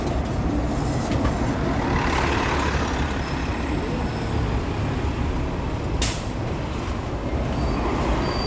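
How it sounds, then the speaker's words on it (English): Toronto Line 1 shuttle buses and other heavy vehicles rumble steadily in a busy downtown street, with a sharp hiss of an air brake release near the six-second mark over continuous traffic noise. "Line 1 buses."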